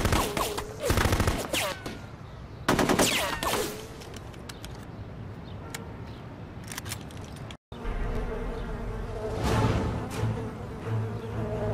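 Suppression gunfire in the 2004 military tactics video game Full Spectrum Warrior: rapid bursts of automatic weapons fire crackle in dense clusters, with a steady battlefield din between volleys and a brief cut of silence midway.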